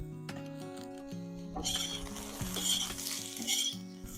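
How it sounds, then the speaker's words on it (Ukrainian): Eggplant sizzles in a pan while a spatula clinks and stirs, with a brighter crackling sizzle swelling up partway through. "Поки баклажани смажаться,"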